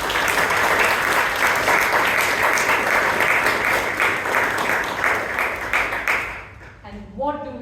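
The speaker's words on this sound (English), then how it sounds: "A big round of applause to us" An audience at a Bangalore Toastmasters club meeting gives sustained, dense applause for about six seconds before it dies away and a voice comes in.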